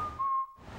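Luigi from the video game Luigi's Mansion whistles a short tune, a clear thin steady tone held near and faint, dropping away briefly before the background returns.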